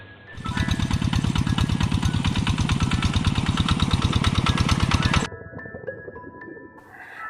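A tractor engine chugs with a fast, steady pulsing beat while plowing a rice paddy, loud and close for about five seconds before cutting off abruptly to quieter background noise.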